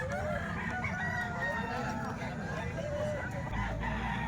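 Gamecock roosters for sale, including stags, crow repeatedly and overlap one another at close range, with clucking and a steady farmyard din beneath.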